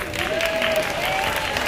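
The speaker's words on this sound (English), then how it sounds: "Give John applause" Audience applause at a Taiwanese community Thanksgiving dinner, a steady wash of many hands clapping for the caterer, with a faint voice or tone threading briefly underneath.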